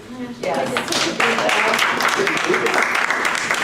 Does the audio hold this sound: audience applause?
yes